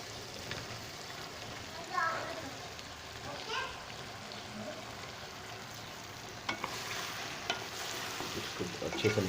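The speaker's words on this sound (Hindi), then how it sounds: "मसाला हमारा जो तड़का है बिल्कुल तैयार है। अभी इसमें सब्ज़ी शामिल कर लेते हैं।" Zucchini (tori) sabzi hits a hot masala tadka in the pan, a steady close sizzle with stirring scrapes throughout and a voice speaking over it.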